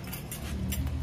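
A bunch of keys jangles and drops, giving a few faint, brief metallic clinks spaced irregularly over a quiet indoor background.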